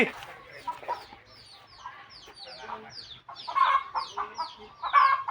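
Chickens cluck and call in a home garden, a series of short clucks and squawks at moderate distance, growing louder toward the end.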